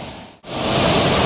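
Rushing water at Punnayar waterfall in Idukki roars as a loud, steady wash of noise, briefly dipping almost to silence before returning full and close.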